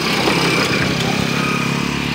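Motorcycles and tricycles labouring up a steep road in Northern Samar, Philippines, a steady loud drone of mid-sized engines running close by without a break.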